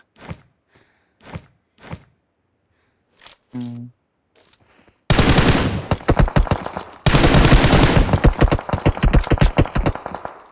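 Gunfire in the mobile battle royale game PUBG Mobile, starting with a few sparse single shots and then giving way to loud, dense bursts of rapid automatic fire.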